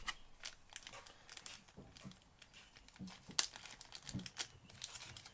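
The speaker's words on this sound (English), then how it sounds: "Stick that inside our plastic bag." Quiet, close crinkling of a plastic bag, irregular rustles and crackles with a few sharper snaps.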